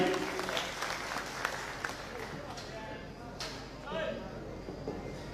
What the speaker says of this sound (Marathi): एकदा हातवरती जोरदार टाळी